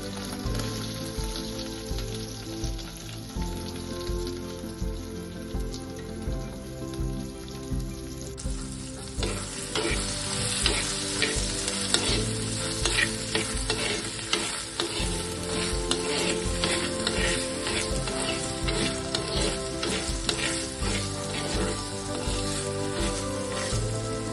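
Chopped onion sizzling and frying in hot oil with ginger garlic paste in a pan, a steady close crackle that grows denser and louder partway through as the onion goes in, with occasional stirring scrapes.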